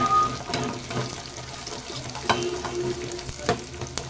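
Onion and a handful of garlic sautéing in a pan, a soft sizzle under intermittent scrapes and clinks of stirring, close and moderate with no talk.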